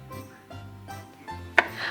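A knife slices the ends off small cucumbers on a cutting board, making several soft separate cuts with a sharper knock near the end, quiet and close.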